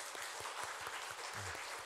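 A church congregation at a Sunday worship service in Mangwon Church gives applause, a soft, fairly even patter of clapping heard at low level from a distance.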